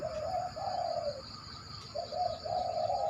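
A dove coos in a backyard training session, giving two mellow, rolling phrases separated by a short pause, close and clear over a low background hum.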